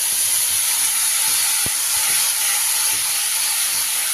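Marinated cauliflower poured into a hot wok on a gas stove, giving a loud, continuous hiss-like sizzle with a single sharp click partway through.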